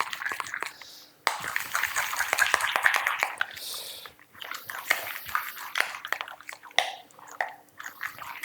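Protein powder being mixed in a bowl, a long run of close, wet squishing and scraping strokes in an irregular rhythm, with no talking.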